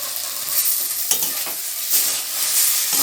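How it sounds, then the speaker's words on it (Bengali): Colocasia (kochu) fries dry in a pan while garam masala powder is stirred in, giving a steady sizzle with a few scraping stirs of a spatula; no talking. "গরম মশলাটাকে একটু মিশিয়ে নিচ্ছি আমি"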